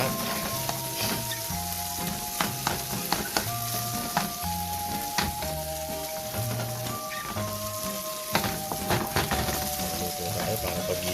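Scrambled eggs frying in a pan give a steady sizzle, with clinks and scrapes of stirring and background music notes running throughout.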